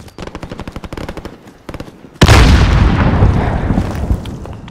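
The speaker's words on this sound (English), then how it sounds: "Grenade out!" Rapid machine-gun bursts rattle in the Call of Duty: Modern Warfare video game, then a loud grenade explosion booms and rumbles as it slowly fades, with scattered shots continuing underneath.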